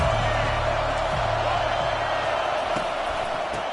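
Stadium crowd at an American football game roars in a dense, steady wash of noise with a few faint thumps, while a commentator speaks over it.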